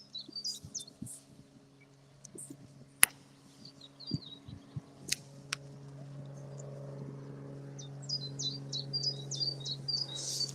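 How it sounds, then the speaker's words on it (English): Swallows call near a 13th-century church and cemetery, giving short high twittering chirps in scattered bursts that grow busier toward the end, with faint outdoor ambience and a few distant knocks. "I love having the swallows back."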